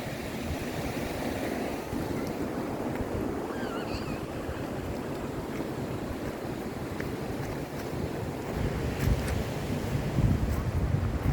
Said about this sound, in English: So far just wind.